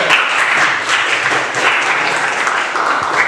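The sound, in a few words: classroom applause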